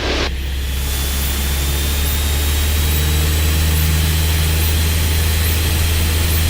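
Cessna 172N single-engine propeller plane going to full power for takeoff, a loud steady engine roar with a high whine heard from inside the cockpit, continuous and close without talking.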